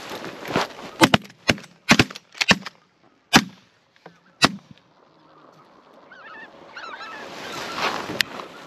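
Geese and ducks honk and call during a foggy waterfowl hunt, a burst of loud nearby honks and sharp knocks early on, then fainter calls and distant chatter carrying through open air.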